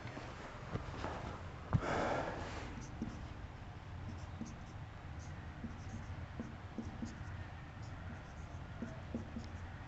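A pen writes chemistry formulas on paper, soft steady scratching strokes close by, with faint breathing and a brief snort early on and no speech.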